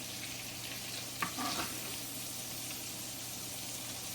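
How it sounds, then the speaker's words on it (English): Meatballs in spaghetti sauce over the heat, giving a continuous soft sizzling bubble with a brief clatter near the middle, steady and close without talk. "I'm going to put the meatballs in some spaghetti sauce and just let them simmer for a while"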